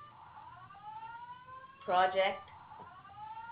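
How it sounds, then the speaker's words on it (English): An indoor fire alarm sounds briefly in a short loud burst of harsh pulsing tones, cutting across a conversation, with people talking before and after it. "our fire alarm just went off"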